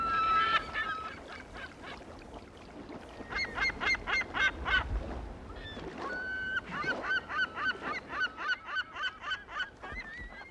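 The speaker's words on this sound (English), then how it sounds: "the California gulls" California gulls calling in rapid bursts of harsh, repeated squawks, loud and close, with several birds overlapping.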